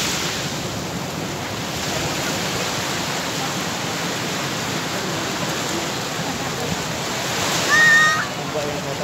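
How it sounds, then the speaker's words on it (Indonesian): Ocean waves roll and break on the beach at Pantai Klayar in Pacitan, a continuous loud wash of surf that swells near the end, with people talking faintly beneath it. "Ombak yang datang keren"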